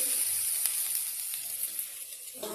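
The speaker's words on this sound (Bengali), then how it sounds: "এখানে অলরেডি বেগুন ভাজা বসিয়েছি" Eggplant sizzles in a pan with very little oil, a bright, continuous hiss, steady and close, with no voices.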